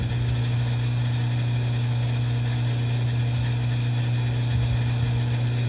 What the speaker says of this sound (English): Currently it's pumping air, but it will pump that much and then click off.